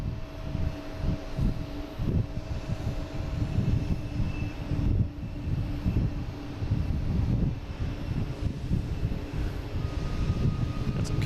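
A Cape Air plane departing Boston Logan International Airport, heard as a steady engine drone with low rumbling wind noise that holds throughout, moderately loud and with no talk.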